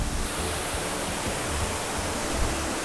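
A waterfall at a hillside temple site pours out a constant, full-bodied roar of rushing water, close and steady with no pauses and no voices.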